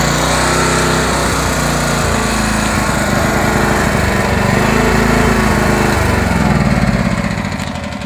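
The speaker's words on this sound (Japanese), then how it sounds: "こちらは大きい発電機ですが、 試運転を、行って、いざという時に、 備えたいと思います。" A large generator's engine runs steadily and loud close by throughout, a continuous drone with a slight swell near the end, with no voices over it.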